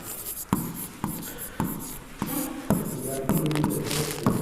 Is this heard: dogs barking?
no